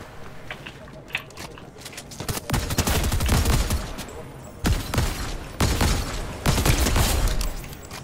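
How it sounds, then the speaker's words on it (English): DMR rifle in Fortnite firing in rapid, repeated loud bursts, sharp cracks layered into dense volleys, with players' voices talking over the shooting. "this DMR, you have to keep shooting it"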